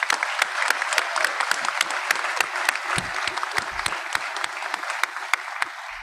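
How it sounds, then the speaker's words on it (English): Audience at a school cording ceremony gives a loud, sustained round of applause, dense clapping steady throughout with a few brief shouts. "I'd like to give them an extra loud round of applause."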